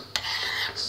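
A utensil stirs thick homemade slime in a container, a short scraping rub with a brief sharp click at the start, close and fairly quiet.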